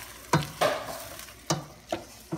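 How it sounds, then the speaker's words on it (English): Seasonings being stirred into nearly cooked meat in a pan, a few quiet scraping strokes over a faint sizzle, close and sparse. "And then I'm gonna stir it in."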